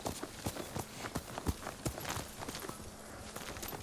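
Horse hooves clip-clop in a video game, a string of sharp, uneven knocks at a quick gait, moderately close, alternating with softer footfall sounds over a low background.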